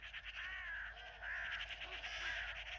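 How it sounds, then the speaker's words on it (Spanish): Carrion crows, magpies and ravens call around a goshawk feeding on a downed corvid in daylight, a dense, steady chorus of harsh caws and chatter at moderate distance. "Vienen cornejas, urracas y cuervos desde todas las direcciones del espacio."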